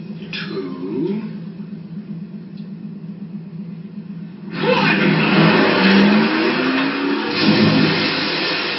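A car engine revs hard and surges loud partway through, rising and holding near over a quieter rumbling idle, the car being driven into a lake; faint voices sit under the start.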